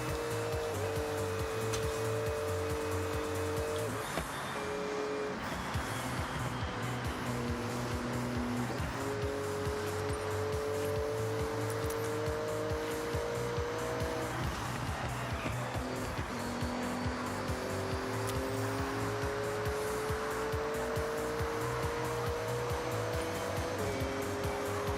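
A car in Forza Horizon 6 drives continuously with a loud engine drone, rising and falling through gear shifts in repeated upward sweeps, with bursts of tire squeal and skidding over the steady roar.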